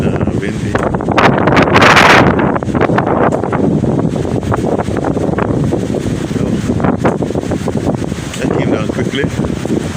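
Very windy outdoor weather buffets the microphone with heavy, roaring rumble throughout, surging strongest around the second second, with talk faintly underneath at times.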